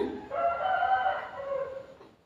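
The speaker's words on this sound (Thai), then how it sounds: "ไก่ก็ขันเด็ดเช้า" A single rooster crows in the early morning, one long drawn-out call that fades at the end, fairly close and clear against a quiet background.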